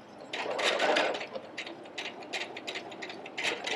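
Sewing machine lock stitching the edge of a pillow through three fabric layers, running in short rapid mechanical bursts separated by brief pauses, close and clear with no talking.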